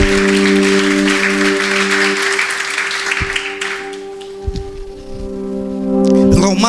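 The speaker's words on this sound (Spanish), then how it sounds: "Denle un fuerte aplauso al Señor." Church congregation giving a loud burst of applause that fades out over held keyboard chords, followed by a few scattered claps and a swell of music at the end.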